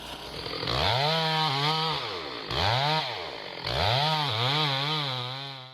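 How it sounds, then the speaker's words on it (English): Chainsaws cut down a 10-foot Douglas fir in Washington. The loud engines rise and fall in pitch through three repeated revving surges, close and continuous. "In Washington, a 10-foot Douglas fir didn't stand a chance against chainsaws."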